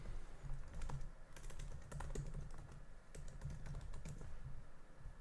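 Fingers tap across a computer keyboard, giving quick, faint, irregular clicks close by with no voice over them.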